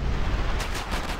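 A rocket explosion in GTA San Andreas, a loud, deep rumbling blast with a sustained low-end roar across the short moment and a few sharper cracks layered on top.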